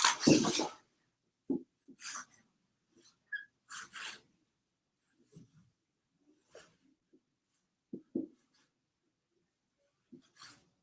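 Marker drawing a graph on a board, producing short, separated squeaks and scratchy strokes with quiet gaps between them, close and fairly faint, with no speech.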